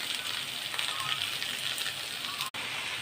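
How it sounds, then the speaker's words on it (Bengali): Pointed gourd drops into a hot wok and sizzles, a steady hiss of frying that runs the whole time, quiet and close, with a brief cut near the end. "পটলটা কড়াইয়ের মধ্যে চাপিয়ে নিলাম।"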